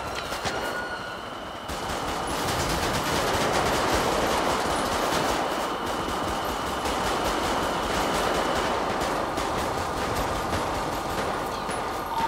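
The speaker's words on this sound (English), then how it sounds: "Still opening fire on our vehicle." Sustained rapid gunfire rattles through a GTA V FiveM roleplay scene on a highway on-ramp, a dense crackling burst running for most of the stretch after a brief lull at the start.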